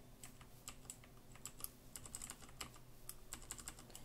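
Computer keyboard being typed on during a Minecraft game, a quiet, irregular patter of fast key clicks with short bursts and pauses, close and faint.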